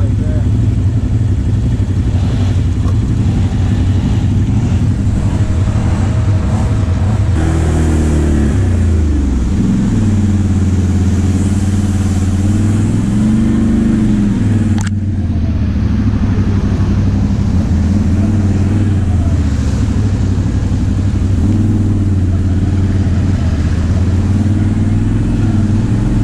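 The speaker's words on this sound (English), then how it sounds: "Chevy Clio climbing the wall." A Chevy Clio crawls up a wall at Slades Park, its engine revving loud and steady, the pitch rising and falling as the throttle surges, with heavy rumble throughout.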